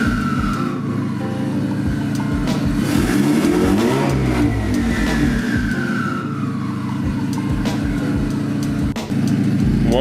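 A turbocharged Honda Civic with a D16Y8 engine revs up from idle, rising to a loud peak and then falling back to a steady idle, heard close with no talk.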